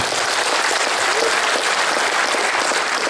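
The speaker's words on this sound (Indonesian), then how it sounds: "Tepuk tangan untuk para camat lurah yang hadir di sini." Steady, dense applause from a large crowd at a Bandung city government ceremony, loud and continuous throughout.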